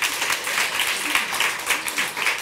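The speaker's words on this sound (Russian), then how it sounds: "Аплодисменты сейчас громкие." Loud applause from an audience, a thick, continuous wash of many clapping hands that swells and pulses slightly without a break.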